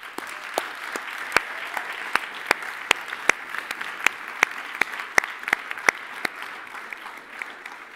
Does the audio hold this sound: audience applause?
yes